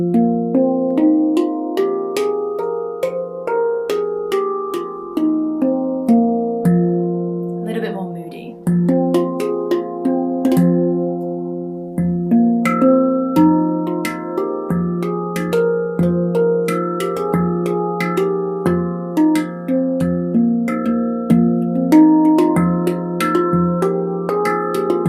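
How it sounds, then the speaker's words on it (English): A Celestial Sound Light Series handpan tuned to the F Venus minor scale plays a continuous melodic pattern of ringing, bell-like struck notes with sustained overtones, close and fairly loud, without speech. "This is called the F Venus, and this sounds like this."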